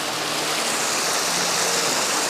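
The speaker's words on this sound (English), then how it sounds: "It's like a mini waterfall on the left and one on the right too." Small waterfalls in a stream on Dartmoor, a loud, steady rush of splashing, tumbling water heard up close with no talking.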